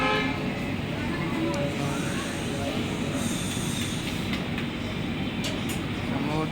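The LHB-coached LTT Shalimar Express rolls into Chakradharpur Junction, a constant dense rumble of wheels and carriage noise heard from on board, with faint voices and brief high horn-like tones over it.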